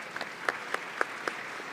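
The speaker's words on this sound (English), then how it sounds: "A round of applause for our panelists" Applause from a conference audience after a panel discussion, a soft wash of clapping marked by a few sharp, louder claps standing out at regular intervals.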